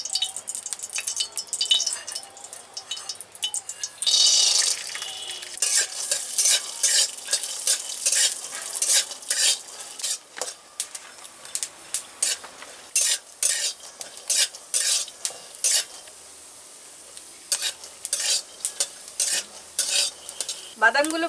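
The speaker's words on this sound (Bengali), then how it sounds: "কম তেলে একটু বাদামগুলো ভেজে নিব" Peanuts fry in a little oil in a wok, with a steady crackling sizzle broken by repeated close scraping and stirring strokes of a spatula against the metal, continuing throughout without any talk.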